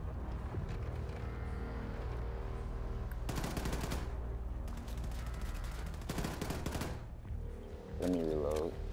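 Automatic gunfire in the shooter Wolfenstein II, bursts of rapid shots around the middle with a steady game soundtrack underneath and a voice talking briefly near the end.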